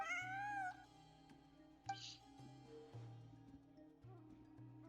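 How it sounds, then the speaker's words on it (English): A pet cat meows several times in a row, with a long, wavering cry at the start followed by shorter meows. The calls are fairly close and clear over a quiet indoor background with a low steady hum. "Ah, kitty! Who's a good kitty?"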